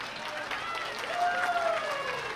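A wrestling crowd at a Limitless Wrestling three-way match applauds in a dense, steady patter of clapping, moderately loud and spread out, with a voice talking over it.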